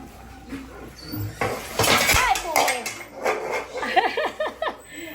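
A metal cooking pot clatters and bangs as it falls in a kitchen while making chicken adobo, with rattling impacts and scattered clanks, followed by startled voices and laughter.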